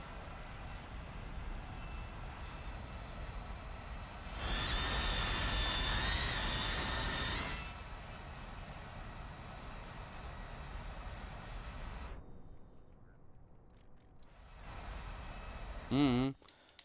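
Aircraft engines drone steadily in a video game, a broadband roar that swells louder for a few seconds in the middle, then drops out briefly before returning, with a short voiced sound near the end.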